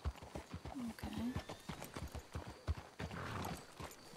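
Horses from the Red Dead Redemption 2 video game plod at a walk, their hooves knocking in an irregular clip-clop with a brief whinny, set against faint background ambience.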